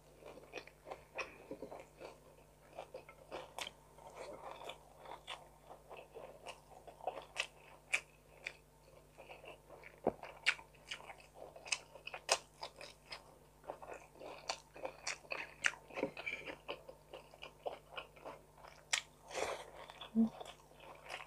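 Crispy pork belly (bagnet) is chewed close to the mouth, with many sharp crunches and bites in an irregular rhythm, faint overall, against quiet background hum.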